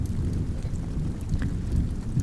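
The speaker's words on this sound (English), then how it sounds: "it's a dark, rainy night." Steady rain pours with a dark thunderstorm rumble beneath it, a dense, even wash of falling water that holds throughout at moderate loudness, with no voices.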